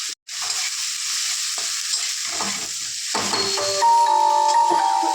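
Spices with turmeric frying in hot oil, giving a dense, steady close sizzle, with light stirring clatter and a few brief tonal beeps near the end; no voices.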